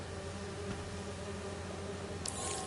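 Bees buzz in a steady, dense drone that holds for nearly three seconds, close and even in level, with no speech.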